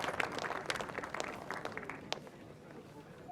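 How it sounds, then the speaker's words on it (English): An audience claps at a motorcycle racing awards presentation, a moderate round of applause that gradually fades, heard from within the crowd. "a big round of applause, please, for Mr. John Taylor"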